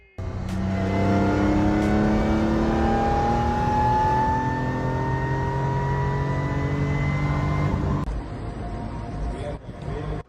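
A BMW M3 in the Need for Speed Most Wanted racing game revs up through gears with rising, whining engine tones, loud and continuous, then cuts off abruptly near the end.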